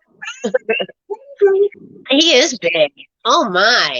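A big grey tabby house cat meows several times, loud and close, the drawn-out cries rising and falling between short bits of a woman's speech.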